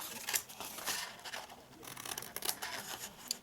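Scissors cut and notch through paper card for a reinforced card box, a steady run of close, crisp snipping and rustling strokes.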